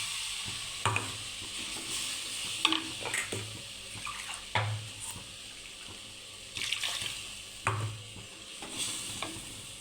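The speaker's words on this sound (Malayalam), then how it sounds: "ഇനി നമുക്ക് തേങ്ങ വറുത്തരച്ച് മിക്സിയിലിട്ട് അരച്ചത് നമുക്ക് ഒഴിക്കാം." Ground roasted coconut paste goes into a sizzling sardine curry in a pan. Repeated close scraping, stirring and wet splatter bursts sound against a steady low sizzle, with no talking.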